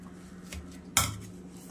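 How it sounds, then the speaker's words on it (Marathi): A metal masher clatters against a pan while mashing hot cooked food, with a few soft scrapes and one sharp, close metallic knock standing out, and no talking. "आणि मॅश करून घेऊयात."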